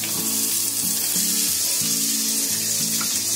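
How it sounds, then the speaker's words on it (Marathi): Peanuts and green chillies sizzle steadily in a pan, a constant hiss of frying oil with a low hum underneath and no talking. "हे पहिलं आहे ना थोडं फ्राय करून घेते"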